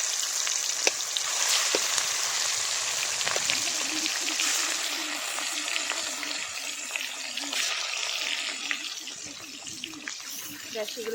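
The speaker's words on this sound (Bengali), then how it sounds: "আমার মাছটা ভাজা হয়ে গেছে লাল করে" Fish fries in hot oil after being rubbed with salt and turmeric, a dense steady sizzle and crackle with scattered pops, close and continuous.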